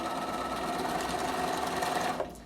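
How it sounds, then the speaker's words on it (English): A Bernina sewing machine runs a long gathering stitch across fabric, a steady, loud, continuous whir that holds for about two seconds and then cuts off abruptly. "And then just start sewing all the way to the other end"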